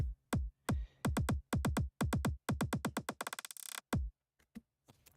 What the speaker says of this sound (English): So now the kick will sound like this.